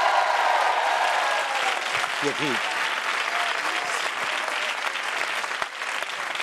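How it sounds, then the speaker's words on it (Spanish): Studio audience on a Spanish late-night talk show claps loudly and steadily for a guest, a dense, continuous wash of applause throughout with a brief spoken interjection partway through. "Un aplauso."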